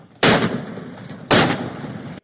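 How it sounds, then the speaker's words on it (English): Two police flashbang grenades go off during a standoff, each a sharp, loud, broadband blast followed by a roughly second-long decaying roar, about one second apart. "The flashbangs are just to distract him."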